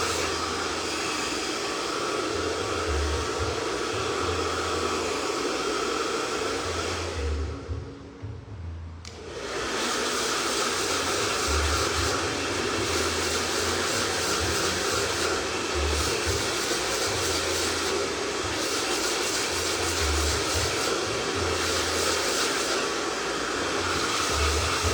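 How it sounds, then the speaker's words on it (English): A handheld hair dryer blows steadily while long layered hair is dried straight, a close, continuous whooshing roar that cuts out briefly for a second before resuming. "but blow drying it"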